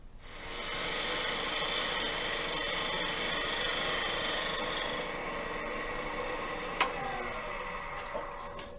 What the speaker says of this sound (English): so I can get more of a shear scrape with the lower tip of the bowl gouge wing just along the surface here